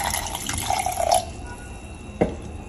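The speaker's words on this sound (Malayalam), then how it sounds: "ഇതാ ഞാൻ ഒരു കപ്പും കൂടെ വെള്ളം അതിനകത്തോട്ട് ചേർക്കുകയാണ്." Water is poured into rice flour batter in a bowl for neer dosa, heard as a short splashing pour with a few drips, followed by a brief clatter.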